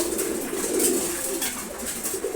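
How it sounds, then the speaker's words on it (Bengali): A red checker pigeon on a pigeon farm coos in continuous low throaty calls nearby, with light clatter and other birds in the background. "নর মাদি দুইটা কবুতরের স্বাস্থ্যই ভালো থাকে"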